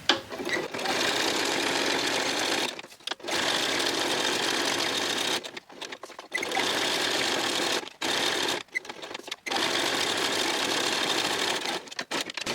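Sewing machine running in steady stitching bursts around the outside edge of a project, loud and mechanical, with several short pauses between runs.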